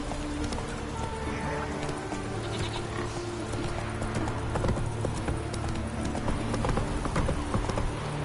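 Hooves of Roach, Geralt's horse, in The Witcher 3 on PS4: a steady, close clip-clop trot that keeps up without pause over a continuous bed of game ambience.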